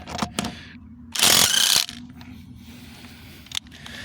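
A Seesii WH710 impact wrench works on a rusted lug nut, a single loud burst of hammering lasting under a second, framed by quieter metallic clicks and handling clatter before and after.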